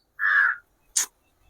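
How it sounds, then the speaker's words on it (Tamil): Two loud, close crow caws, a long drawn harsh call followed by a short sharp one, with no talk. "காக்கா வேற கத்துது"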